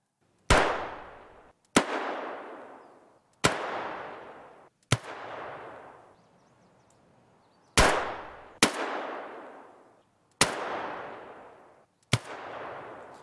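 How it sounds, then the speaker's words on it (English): Distant gunfire in Escape from Tarkov, with eight sharp shots arriving in irregular pairs and singles. Each has a hard attack and a long decaying echo tail, and there is a short quiet gap midway. "when impulse noises such as gunshots were heard at a distance"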